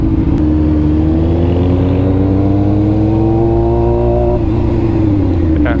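A Ford Mustang engine revs hard close by, its pitch climbing steadily for about four seconds before dropping back, loud and alone.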